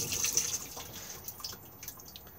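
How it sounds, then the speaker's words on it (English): A Thetford cassette toilet in a 2021 Benimar Tessoro T487 motorhome flushes, with water running and splashing close by for a couple of seconds at a steady, moderate level, alone with no voices. "Push the flush just here."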